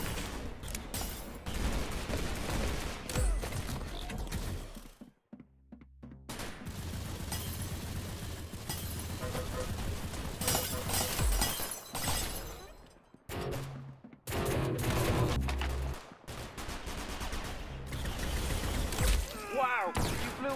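Rapid gunfire in a Roblox shooting game, loud bursts of shots and shattering impacts running through most of the stretch with a couple of brief pauses.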